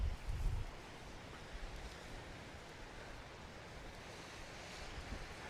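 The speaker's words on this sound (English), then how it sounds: "It's really windy." Strong wind by the sea at Punta Prima rumbles and buffets the microphone, with a heavier gust at the start, over a constant broad rush of surf and air.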